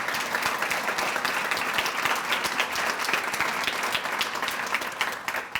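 A large audience at a chamber of commerce anniversary dinner applauds the board of directors, a steady dense wash of clapping that holds at full strength for several seconds before easing slightly at the end.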